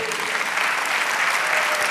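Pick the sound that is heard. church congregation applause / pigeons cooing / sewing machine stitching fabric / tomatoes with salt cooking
church congregation applause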